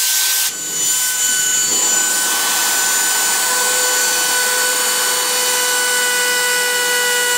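A Dremel rotary tool cuts an intake cutout on an off-road vehicle, giving a loud, steady high-pitched whine with grinding texture that holds unbroken after a brief start.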